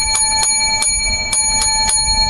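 A small bell rung as a sound effect chimes seven times in a steady, evenly spaced series, bright and ringing over a low background hum.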